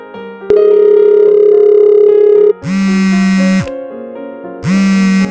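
A telephone rings in an animated short, giving long, steady, buzzy electronic tones that come in loud bursts separated by short gaps, with no voices.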